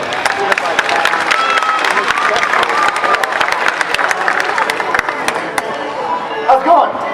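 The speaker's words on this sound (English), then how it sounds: "You guys give him a big round of applause." An audience at a fair's martial arts demonstration claps loudly and continuously, with dense rapid hand claps and some crowd cheering and chatter, easing off slightly near the end.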